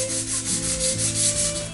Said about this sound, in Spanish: pues empezamos a lijar, muy suavemente.